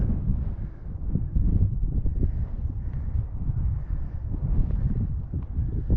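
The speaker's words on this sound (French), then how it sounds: "Là, ça commence un peu à souffler plus fort." Strong wind on the hills of Saint-Michel-de-Frigolet roars steadily against the microphone, a low rumbling gusty buffeting that swells and eases without pause.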